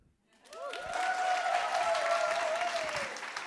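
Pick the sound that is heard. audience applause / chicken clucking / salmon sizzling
audience applause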